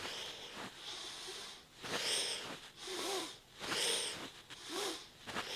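Fast, vigorous breathing during a Kundalini yoga kriya for disease resistance, rhythmic forceful breaths through the nose with airy sniffing and hissing that rise and fall in repeated bursts, close and fairly quiet.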